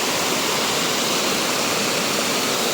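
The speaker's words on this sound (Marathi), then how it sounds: "हे बघा छोटासा असा धबधबा आहे" A small waterfall on a hillside rushes in a constant, dense hiss of falling water, loud and close with no pauses or voices.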